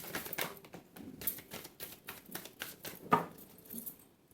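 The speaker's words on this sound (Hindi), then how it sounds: "this is my last shuffle" Tarot cards being shuffled by hand: a run of soft, quick riffling flutters and light taps, close and quiet, with no voice over them.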